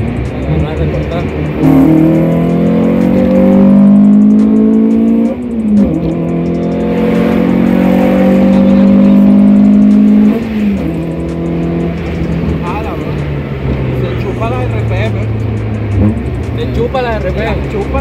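A Renault Clio Sport 172 hot hatch revs hard and accelerates through rising gear pulls, its engine loud and close, with people talking over it.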